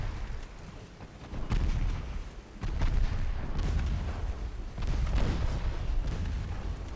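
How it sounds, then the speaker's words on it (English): Naval guns firing from troop transports during a Greek campaign battle in a strategy video game, a series of heavy booming blasts and rumbling explosions rolling continuously over about seven seconds. "There's 3-inch guns from the transports, actually."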